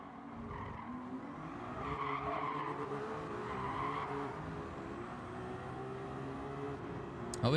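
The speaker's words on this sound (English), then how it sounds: "Got in the gas really hard off that corner and lost a ton of ground spinning the wheels" Race car wheelspin and tire squeal in Gran Turismo 7, a sustained screeching skid over a droning engine, moderately loud and continuous for several seconds.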